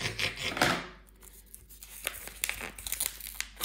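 Cardboard mail package being opened with scissors, close-up tearing, crinkling and snipping noises in a quick run of short bursts, fairly quiet and without talk.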